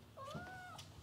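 A cat gives a single clear meow with a rising-then-falling tone, close and loud, lasting about half a second against a quiet background with no talking.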